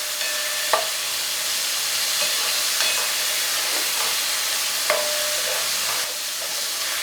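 Thawed seafood paella from a meal kit is stir-fried in a hot pan, giving a continuous loud sizzle with a few sharp clinks of the utensil against the pan. No one speaks.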